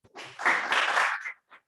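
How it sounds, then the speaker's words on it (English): Brief applause from a lecture audience for a professor, a short burst of clapping that swells and fades within about a second, followed by one faint clap. "let's give a final applause for the professor"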